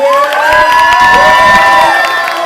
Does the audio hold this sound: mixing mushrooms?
no